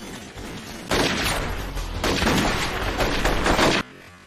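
Gunfire in a film scene, a character shot dead: a loud burst of shots and booming impacts in two dense waves, cutting off abruptly into quiet.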